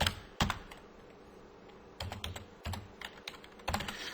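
Someone typing code on a computer keyboard, short bursts of close, crisp key clicks separated by brief pauses, with no voices.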